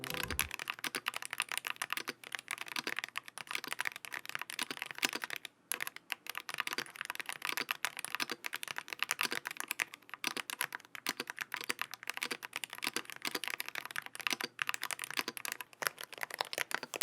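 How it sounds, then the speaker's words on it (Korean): Rapid typing on an Akko MOD007 magnetic switch gaming keyboard, dense clacking keystrokes in a steady stream, close and fairly quiet, with one short pause. "자, 이제 타건음 들려드릴게요"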